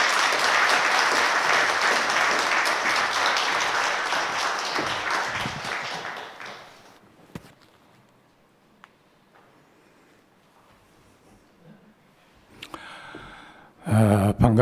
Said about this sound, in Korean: 우리 하나님의 박수로 영광 돌리며 마주하기 바랍니다